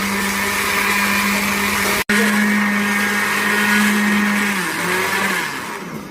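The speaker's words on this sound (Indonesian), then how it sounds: "Dan kita blender." An electric blender runs steadily and loudly, blending half a litre of water with eight shallots; a sharp click cuts in briefly before the motor whirs on, then its pitch sags slightly near the end.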